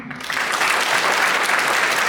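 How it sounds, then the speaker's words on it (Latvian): Audience applause at a folk dance group's 50th anniversary jubilee concert, a dense, loud, sustained clapping that swells after a brief moment and holds steady throughout. "Sūtam vētrājums aplausus Mārim Aināram."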